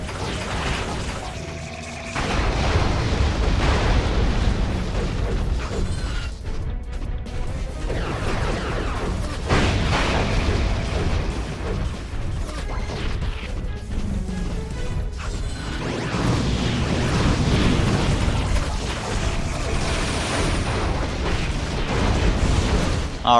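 Missile explosions and crashes in the video game Ratchet & Clank: Going Commando form a dense, loud, continuous barrage of booms and clatter that runs almost without pause.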